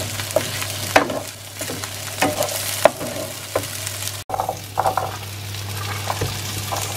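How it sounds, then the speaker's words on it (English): Vegetables fry in the same pan the beef was browned in for a slow-cooked beef stew, a steady close sizzle broken by repeated scraping stirs and a brief clatter midway. "I'm just cooking the veggies in the same pan that I cooked the beef in."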